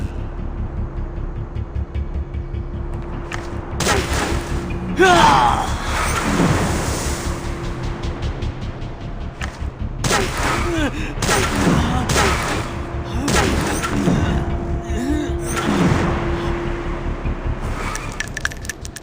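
Gunfire and booming impacts from the mobile game Dragon Raja, played on an Asus ROG Phone 6 at max graphics, burst repeatedly over a steady droning game score, loud and close with sharp transients throughout.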